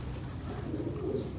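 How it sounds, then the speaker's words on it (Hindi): Domestic pigeons of a bred fancy line, kept in lofts, coo in a low continuous murmur, several birds overlapping steadily and fairly close throughout. "बहुत अच्छे कबूतर।"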